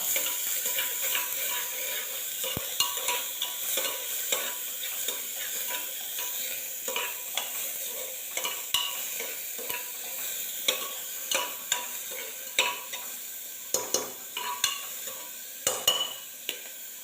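Chopped onions for mushroom soup fry in a pan with a continuous sizzle, while a spoon stirs and scrapes against the metal in repeated clicks and taps throughout.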